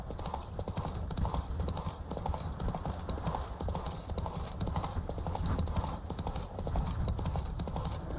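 Quiet, rhythmic horse hooves clip-clop steadily at a walking pace in the video game The Witcher 3: Wild Hunt, continuous throughout with a faint background hum.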